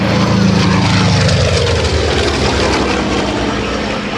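A Thunderbolt warbird flying past at the 2009 Dover AFB open house and airshow, its loud piston engine roaring steadily and close, with a falling drone as it passes.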